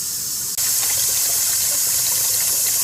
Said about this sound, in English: So, I got this pot here. And I'm gonna put this in water